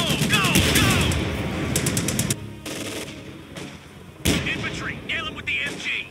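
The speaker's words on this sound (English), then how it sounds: "Infantry, nail them with the MG!" Rapid bursts of machine gun fire in the World War II strategy game Company of Heroes 2, loud and close, with dense rattling volleys, a brief pause, then renewed firing amid battle noise and shouted voices.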